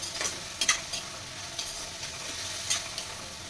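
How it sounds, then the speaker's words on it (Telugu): Onions frying in a pan for a village-style mutton curry, a soft continuous sizzle broken by several sharp scraping stirs of a spoon against the pan, no voices. "మనం వీటిని మంచిగా ఫ్రై చేసుకోవాలి"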